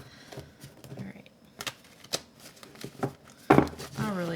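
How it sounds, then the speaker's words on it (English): Tarot cards are shuffled by hand in a quiet room, giving a series of short, separate riffling slaps and flutters at an uneven pace. A voice speaks briefly near the end. "I really hate shuffling these cards"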